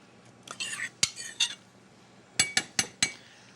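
A utensil scraping down a mixing bowl while stuffed cabbage is made in a home kitchen, giving close, uneven scrapes and several sharp metallic clinks against the bowl in quick succession.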